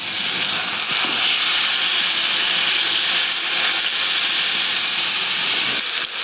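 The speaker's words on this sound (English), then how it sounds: "put a little duck fat oil in there, and we're just gonna sear these, get them browned up" Venison backstrap searing in hot duck fat in a cast iron skillet, a loud, steady broadband sizzle that hisses continuously without a break, close up and alone.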